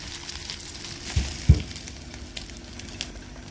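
Freshly caught fish frying in a pan, a steady soft sizzle with a couple of brief pops and thumps near the middle.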